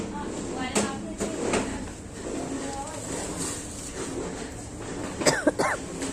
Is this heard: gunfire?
no